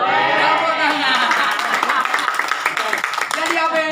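A crowd at a religious talk in a shopping mall claps, a burst of many hands fading into scattered claps, with voices speaking throughout.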